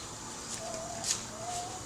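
A hen in a chicken coop gives a couple of soft, drawn-out clucking calls over a steady background hiss, fairly close and quiet.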